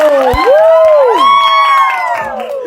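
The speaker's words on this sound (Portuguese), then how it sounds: "E uma salva de palmas pra ela!" Audience cheering and applause for a guest on a Portuguese-language book discussion show about Memórias Póstumas de Brás Cubas, with loud, high whooping and shouting voices that hold steady across the whole moment.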